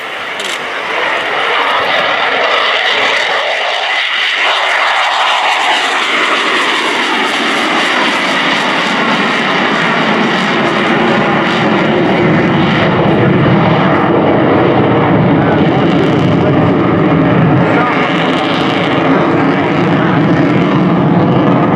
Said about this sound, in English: Here we have the A-18C Hornet of the Finnish Air Force.